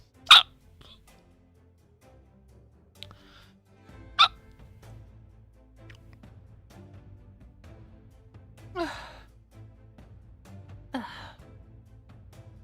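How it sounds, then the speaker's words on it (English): Sharp, sudden hiccups pop out several times at irregular intervals, mostly quiet in between, with some soft breathy vocal sounds near the end. "Yeah, I was having hiccups."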